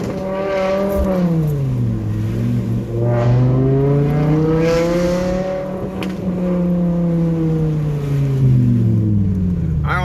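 A loud, raspy exhaust from a BMW M5 E60 with a muffler delete drones and rises and falls in pitch as the engine revs, up close and continuous with no talking.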